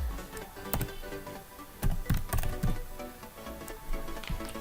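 A computer keyboard is typed on in quick, irregular bursts of clicky keystrokes, close and clear, with short pauses between runs.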